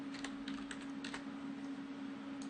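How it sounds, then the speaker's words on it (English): Keys clatter on a computer keyboard in a short, quiet burst of light clicks over a steady background hum. "I'm going to type in here and say"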